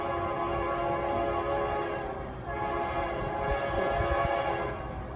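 A Norfolk Southern freight train nears a rail crossing in Fostoria, Ohio, its horn sounding in long sustained chords over a steady rumble of wheels, holding moderately loud with a brief dip midway before resuming.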